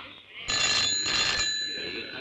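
A telephone rings in an indoor scene, a steady electronic ringing tone that holds for about two seconds at moderate loudness.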